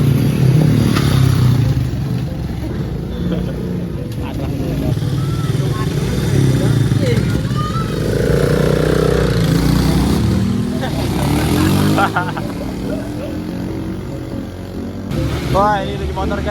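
A motorcycle taxi climbing a mountain trail on Mount Merbabu, its engine droning and revving steadily with rattling and clatter throughout, loud and close, while people talk over it.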